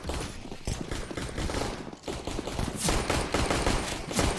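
Rapid bursts of automatic gunfire and rifle shots rattle through a Counter-Strike match on the Inferno or Cache map, dense overlapping volleys with a short pause midway.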